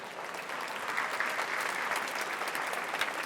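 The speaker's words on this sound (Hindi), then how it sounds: "Thanks a lot for your तालियां" An audience at a talk on stress-free living gives steady, broad applause, a dense wash of many hands clapping at an even level for several seconds, slightly distant and without voices on top.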